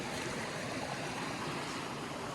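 Cold, crystal clear snowmelt creek on Idaho public land near the Canadian border, flowing in a steady, close, broadband rush of running water with no voices.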